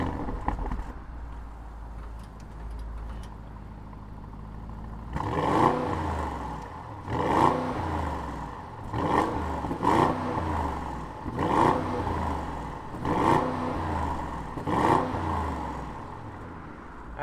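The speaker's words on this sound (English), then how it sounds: "fire up this 4-liter V8 twin turbo engine and hear what it sounds like" The 4-liter twin-turbo V8 of a 2020 Audi SQ8 idles, then fires up and revs in a series of evenly spaced bursts, each rising and falling, heard from nearby.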